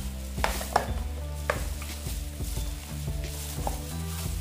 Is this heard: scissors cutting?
no